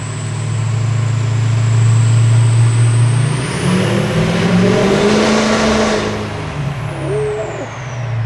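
Chevrolet Silverado 3500HD Duramax diesel truck engine droning loud and close under heavy load at low RPM on a dyno, with a steady rise in pitch and a high turbo whistle sweeping upward over it.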